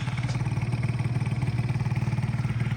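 A small Honda Dio AF-35 scooter engine, about 30 years old, idles steadily nearby at slightly low idle, a fast, even putter with a light mechanical clatter.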